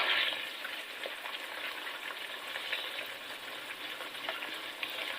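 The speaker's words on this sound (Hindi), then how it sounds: "2 से 3 मिनट के लिए हम इसे भी अच्छे से भून लेते हैं, ताकि लहसुन अदरक का जो कच्चा टेस्ट आता है वो ना आए" Garlic ginger paste fries with onions in a pan, making a continuous close crackling sizzle with light scraping and stirring, steady throughout and without speech.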